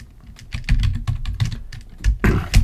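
Rapid keystrokes on a computer keyboard while typing code, a dense run of close, crisp clicks with a brief louder burst near the end.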